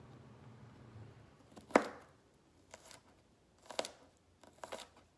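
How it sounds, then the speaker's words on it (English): A knife cuts kernels off a corn cob in a few separate sharp, crisp slicing strokes spaced about a second apart, close and fairly quiet, with no one speaking. "Cut it into as little pieces as you can get."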